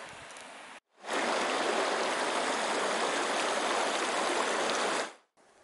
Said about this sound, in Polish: Ten strumień to Rio Grande, a tam wiją źródła tej rzeki.